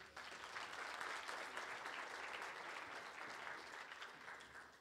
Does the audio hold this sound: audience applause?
yes